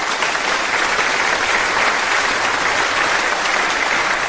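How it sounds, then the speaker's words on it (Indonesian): An audience at a birthday celebration claps loudly as an elderly grandfather is welcomed onto a stage. The applause is close, thick and continuous, staying at full strength from start to finish. "Sekarang mari kita sambut dengan tepuk tangan meriah kakek Chen naik ke panggung."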